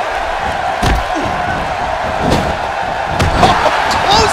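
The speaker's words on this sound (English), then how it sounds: "clothesline knocked right on her head" Wrestling impacts from WWE 2K17, a women's match: several sharp slams and thuds from a clothesline and body hits, over steady crowd noise in a busy arena.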